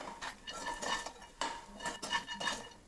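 Roasted makhana (fox nuts) being scooped out of a kadhai, with repeated metal spoon scrapes and clinks against the pan in irregular bursts, close and moderately loud, no talking.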